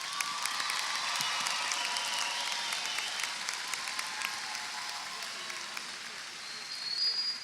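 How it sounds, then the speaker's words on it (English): Audience applause for graduating students at a high school graduation ceremony, a distant, steady wash of clapping in a large hall with faint cheers and murmuring. "Audience, let's give these students a round of applause for their achievement."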